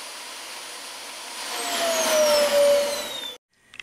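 A Dyson DC25 Animal vacuum cleaner sucks black pepper off the floor, a steady loud whine with a rising pitch that swells, then cuts off abruptly near the end.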